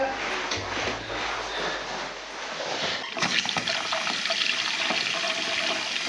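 Water gushes loudly and steadily through newly installed PEX plumbing, a broad rushing hiss that surges sharply about halfway through and keeps pouring.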